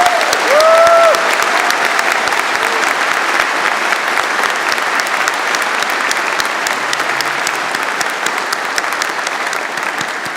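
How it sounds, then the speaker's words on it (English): A large audience at a university convocation ceremony applauding a stage party, steady dense clapping throughout, with a brief tone near the start. "Please join me now in acknowledging them with a round of applause."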